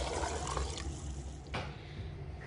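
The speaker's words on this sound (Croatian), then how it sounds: "Sad ga preljevamo vrelom vodom." Hot water poured into a pot over beans for Bosnian bean stew, a steady splashing and filling wash that runs continuously at moderate, close volume with no talk.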